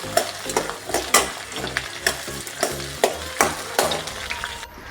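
Onion and garlic sauté in a pan for vatha kuzhambu, a steady frying sizzle broken by repeated scraping stirs of a spoon, close and without talk.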